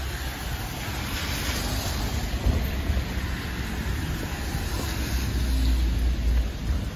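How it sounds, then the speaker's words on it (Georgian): Rain pouring down during an outdoor walk, a dense continuous hiss with low rumbling underneath, steady and fairly loud throughout with no talking. "წვიმიანი გასეირნება."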